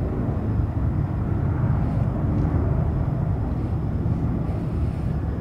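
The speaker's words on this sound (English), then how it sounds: "Well, that was a flat takeoff, huh?" An airliner takes off from San Francisco International Airport, a broad continuous low roar of jet engines, steady and moderately loud from a distance.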